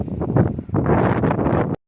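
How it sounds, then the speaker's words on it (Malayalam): Strong wind buffets the microphone in loud, rumbling gusts that roar almost without pause, then cut off abruptly, at Kuttikkanam in the Idukki hills. "ഈ ഒരു കാറ്റ് മാത്രമേ ഉള്ളൂ ഭയങ്കര കാറ്റാണ്"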